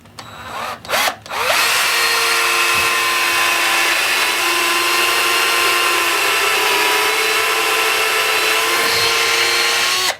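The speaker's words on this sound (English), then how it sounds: "So the way I've got a 1 1/8 inch drill bit," A power drill with a 1 1/8 inch bit boring into oak for a pallet-wood workbench top: a couple of short starts, then a loud, steady high whine that runs continuously for about nine seconds, close up with no talk.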